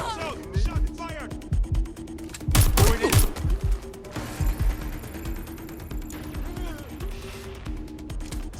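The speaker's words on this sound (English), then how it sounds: "Shot fired!" Gunfire in the video game Watch Dogs: Legion, with several sharp shot bursts clustered near the middle and a sustained siren-like tone and crashes around them, while voices speak over the action.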